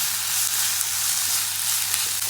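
Onions sautéing in hot oil in a pan for an egg noodle dish give a steady, close, dense sizzle that holds at an even level throughout, with no voices over it.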